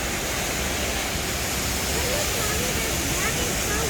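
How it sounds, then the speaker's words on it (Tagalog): Tall indoor waterfall at Jewel Changi airport roars as a steady, loud, dense wash of falling water filling the space. "Yeah, there's a waterfall until that."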